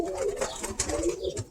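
A Birmingham Roller pigeon coos close by in a soft, throaty run of low calls that rises and falls over a second and a half.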